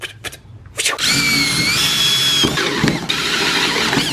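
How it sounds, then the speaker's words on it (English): A power drill starts after a few short knocks and runs with a steady high-pitched whine and grinding, loud and close, through to the end. "Now, gotta do this end. Drill some holes."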